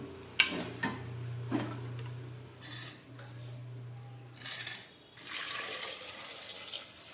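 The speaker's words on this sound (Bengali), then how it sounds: "পরিমাণ মতো জল দিয়ে দিলাম" Water poured into a pressure cooker over potatoes and a tomato for vegetarian aloo dum, a steady close stream running for several seconds with light metallic clinks, then a brief rush of splashing.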